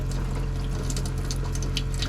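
Water streaming from a vintage camper water line with the pump running, a constant close splashing flow over a steady low hum, moderately loud with no voices.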